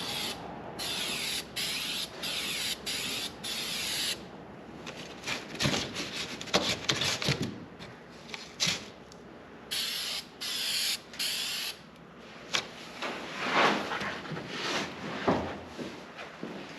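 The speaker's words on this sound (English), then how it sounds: "So I'm spraying the metal right now where it adheres to." 3M super adhesive sprayed from an aerosol can onto the bare metal roof of a 1966 Oldsmobile 442 during a headliner install: repeated close hissing bursts of varying length with short pauses and faint handling noises between them.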